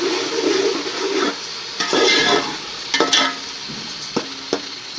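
Garlic paste and chopped green chillies are stirred into a pot of haleem, with irregular spoon scrapes and clanks over a low sizzle, close and fairly loud.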